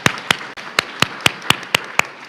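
Applause for two legislators at a legislative listening session comes as about nine sharp, evenly spaced claps, sparse and steady rather than a dense crowd roar, with no talking.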